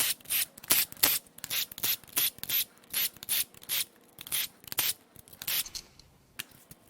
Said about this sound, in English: Now it's time to crack the cam caps loose.